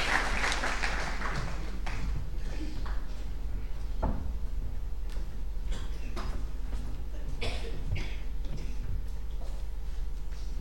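Audience applause welcoming Professor Ravi Kannan to deliver a first public lecture, a steady patter of clapping across a hall that thins out toward the end, with scattered taps and a cough.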